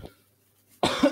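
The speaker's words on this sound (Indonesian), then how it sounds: "Maaf, saya sedang batuk." A single sharp cough bursts out loud and close after a moment of near silence, with a faint earlier sound at the start.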